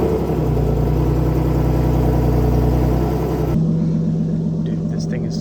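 A Lexus IS300 fitted with Megan headers runs with a loud, steady droning rumble that shifts to a lower, smoother tone partway through.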